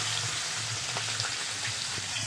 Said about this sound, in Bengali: প্রথমে যে মশলা মিশিয়ে কড়া তেলে একদম ভেজে নেবেন।